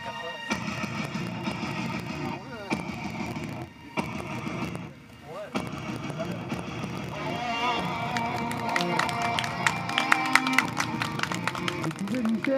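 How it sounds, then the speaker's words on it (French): A wrestling event crowd applauds and cheers a wrestler's entrance in a steady, full wash of clapping that builds toward the end, with an announcer's voice and music running over it. "Vous pouvez lui faire un tonnerre d'applaudissements"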